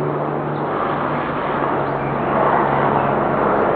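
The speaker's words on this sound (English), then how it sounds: "with a low flying helicopter" A low-flying helicopter's steady, droning engine rumble holds at a constant loud level throughout, with a low hum underneath and no voices.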